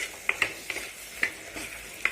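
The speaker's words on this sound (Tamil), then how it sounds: "ஒரு நல்லா இதை பெரட்டி விட்டுருங்க." Brinjal pieces are stirred through a frying dried-fish curry in a pan, with a few sharp scraping and tapping strokes spaced irregularly over a quiet, soft sizzle.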